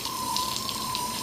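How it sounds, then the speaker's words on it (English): Water is released from a Briggs & Stratton PowerBoss 8370CP pressure washer with a steady, continuous hissing rush, loud and close, with no pauses. "We're going to release some of the water by pressing the red button"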